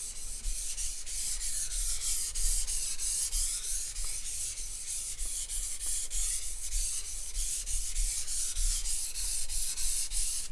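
A sushi knife slides back and forth on a whetstone in a continuous, close, even grinding hiss with a steady rhythm, no voices present.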